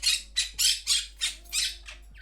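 A pet bird squawks in about seven harsh, closely spaced bursts, loud and near, with no voices over it.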